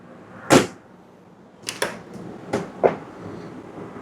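Kitchen drawers on 75-pound ball bearing slides in a 2026 Fleetwood Bounder 35K motor coach slide and shut, making a few sharp close knocks and rolling swishes spaced over several seconds, with no talking.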